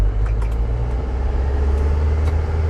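A car engine running in first gear as a loud, steady low rumble, close and continuous with slight faint ticks above it.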